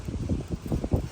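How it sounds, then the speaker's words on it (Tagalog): Strong wind outdoors buffets the microphone in low, rumbling gusts that rise and fall over a brief moment, fairly faint with no clear voices. "Ang lakas ng hangin dito."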